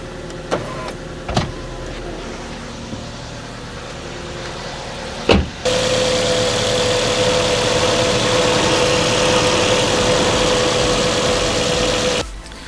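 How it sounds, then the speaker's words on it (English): A Suzuki Swift engine runs at a smooth, even idle after its throttle body was cleaned and new spark plugs were installed. A few clicks and a sharp thump come first, then the idle hums steadily and closely for about seven seconds before cutting off. "The engine's running pretty smooth and there's no rough idle."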